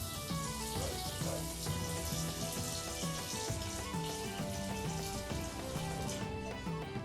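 Cold tap water runs into a pot of potatoes, a steady splashing pour that continues throughout, close and alone with no talk over it.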